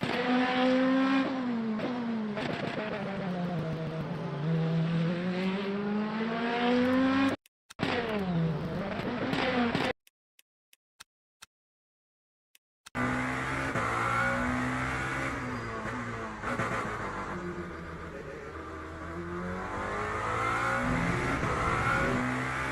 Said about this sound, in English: You're running just so much traction control that it was cutting the throttle out like absolutely crazy.